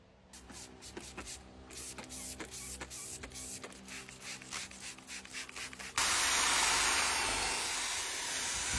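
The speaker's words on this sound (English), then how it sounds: "the sound of a drill brush making soup" A rotary scrubbing brush whirs and rubs steadily in short rhythmic strokes, then a louder, harsher buzzing takes over near the end.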